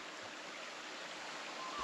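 The Hann River flows as a steady broadband rush of water, continuous and moderately distant, with no voices over it.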